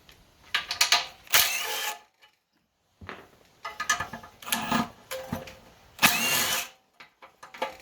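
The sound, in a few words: small ratchet loosening engine head bolts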